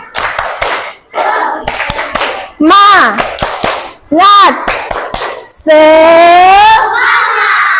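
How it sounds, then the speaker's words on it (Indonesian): Fourth-grade schoolchildren in a classroom perform a rhythmic spirit clap, sharp bursts of hand claps in a set pattern alternating with loud group chanting, close and lively. "Tepuk semangat."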